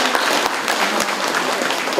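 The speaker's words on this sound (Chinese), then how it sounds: "我们给里长，大家我们给他鼓掌表示感谢" Steady, dense applause from an audience at a township gathering of village and neighborhood chiefs, filling the room at an even level throughout.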